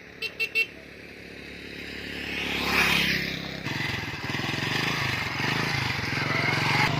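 A motorcycle rides along a rural village road, its engine droning steadily and rising as it moves, preceded by a few short horn toots, with wind and road noise throughout and no talk.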